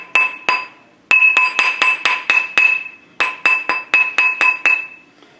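A metal ring struck with a hammer on a steel ring mandrel, close and loud: sharp ringing taps in quick bursts of three to six, separated by short pauses, each strike leaving a bright sustained metallic ring.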